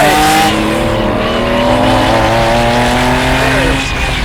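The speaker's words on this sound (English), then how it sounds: "the main reason you buy a Lambo isn't because of the visibility, it's because of this V12, and I think we need to let it sing a little bit" A 1992 Lamborghini Diablo's V12 revs loud and close, a steady, rich engine roar with rising harmonic tones held for several seconds and easing off near the end.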